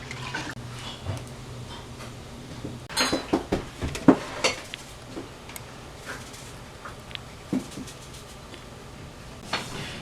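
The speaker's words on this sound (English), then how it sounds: "Now that the sauce is hot, we ladle it into the jars slowly and precisely" Hot apple pie filling sauce ladled into jars of apples through a funnel, with close clinks and taps of a ladle against glass and metal, a busy cluster of knocks in the middle and scattered ticks elsewhere, no talk.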